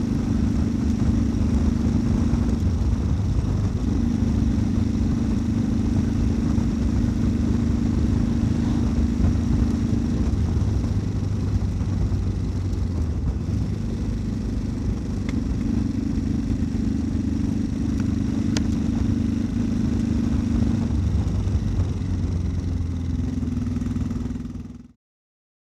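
A motorcycle engine runs loudly and continuously close by, its low drone holding steady and stepping up and down in pitch as it warms up, with a suspected ignition-coil fault. No talking.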